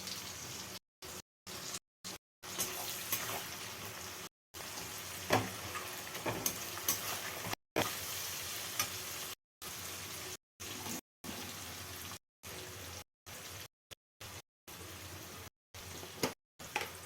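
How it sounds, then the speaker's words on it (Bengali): Tomatoes hiss and sizzle in a pan of onions fried reddish brown for a Bombay duck curry. A steady, fairly soft crackle runs throughout with brief gaps and occasional stirring pops, and no voices. "দেখো পেঁয়াজটা লাল লাল হয়ে ভাজা হয়ে এসছে, এর মধ্যে আমি দিয়ে দেবো টমেটো।"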